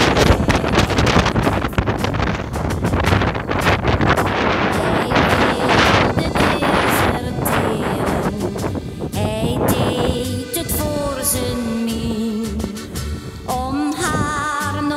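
Strong wind buffets the microphone outdoors on the way to Vlissingen station, a continuous loud rushing roar that eases slightly toward the end, with no talk.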